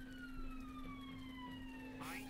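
An emergency vehicle siren passing outside, faint and distant, its wailing tone sliding gradually lower as it goes by over a low steady hum.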